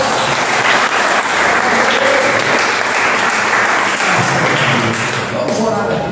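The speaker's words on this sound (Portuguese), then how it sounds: "Você pode aplaudir ao Senhor bem forte." A church congregation applauds loudly and steadily through a worship service, a dense wash of clapping that fills the whole stretch, with a few thumps and some voices mixed into the crowd noise.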